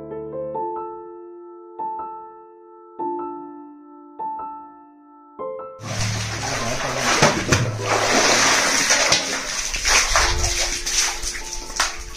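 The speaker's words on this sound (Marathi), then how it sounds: "लिंगाणा माचीच्या जवळ आता विहिरीमध्ये पाणी भरतोय आम्ही" Water being filled from a well near Lingana Machi on a mountain trek. Quieter tonal voices come first, then a loud, close, continuous rush and splash of water takes over for the second half.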